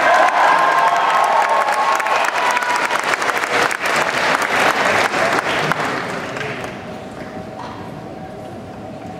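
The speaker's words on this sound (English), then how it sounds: "Another round of applause for these guys." Loud applause and cheering from a crowd at a 12th-grade graduation ceremony, many hands clapping with whoops above them, holding strong and then thinning out and softening over the last few seconds.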